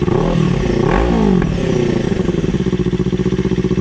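A motorcycle with a loud aftermarket exhaust revs up and drops back, then settles into a rapid, throaty idle burble, close and loud.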